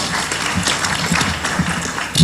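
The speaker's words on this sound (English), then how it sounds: "Another proper round of applause to an all-lady panel." Conference audience applauding an all-woman panel at a CFA investment event in East Africa, a short dense burst of clapping heard up close.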